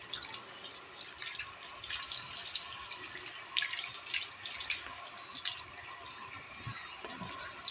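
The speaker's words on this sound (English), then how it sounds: "Once you've got a good lather, you just want to rinse those off." Water runs steadily from a faucet into a sink while lathered hands are rinsed under it, a continuous close splashing hiss with no voices.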